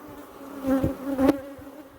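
Africanized honeybees buzz around hive frames, a close, droning hum that swells twice as bees pass near, heard without speech.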